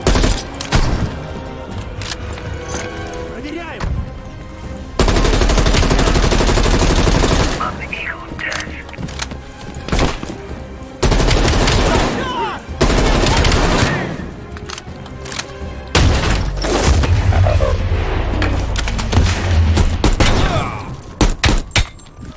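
Sustained bursts of automatic gunfire in the Call of Duty Black Ops Cold War mission Operation Red Circus, loud and dense, broken by short quieter gaps with game voices talking.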